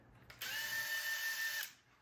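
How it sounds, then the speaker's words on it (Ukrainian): A Makita brushless cordless drill from an eight-tool kit spins up sharply and runs at a steady, even whine for just over a second before stopping, close and clear with no speech. "Видно зразу, як працює безщітковий двигун."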